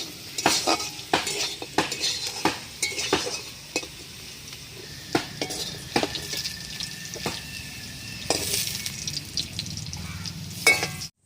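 Potatoes stirred and fried in hot oil in a pan, a continuous sizzle punctuated by repeated sharp scrapes and clinks of a utensil against the pan, up close with no talking.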